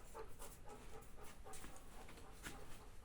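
A dog pants close by on a building site beside a terrace under repair, with quick rhythmic breaths repeating steadily over roughly three seconds and no talk.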